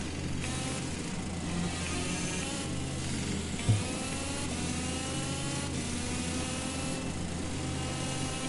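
Go-kart engines racing around a track at Chesterfield during a championship race, a continuous droning mix of mid-pitched engines rising and falling in pitch, with a brief knock midway.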